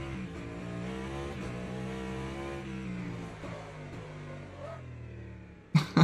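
Race car engine of the 311 in the Le Mans Ultimate sim, a steady droning mid-pitched whine with shifting harmonics, held at a constant level before a couple of sharp louder bursts near the end.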